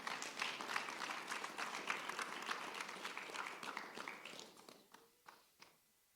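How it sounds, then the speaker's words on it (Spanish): Faint, distant applause from a church congregation fills the space, then thins out into a few scattered final claps before fading. "Dale un aplauso al Señor."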